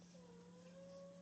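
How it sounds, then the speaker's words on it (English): A pet cat meows in a long drawn-out tone, faint and distant in a quiet room, with a steady low hum underneath. "And you can probably hear my cat in the background."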